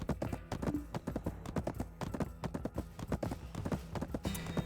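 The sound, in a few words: horse hooves clip-clopping in a video game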